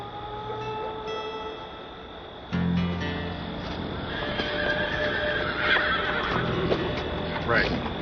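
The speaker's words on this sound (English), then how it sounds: "Those are wild horses." Wild horses neigh and whinny amid hoof clatter and a busy, noisy background, with people talking over the calls.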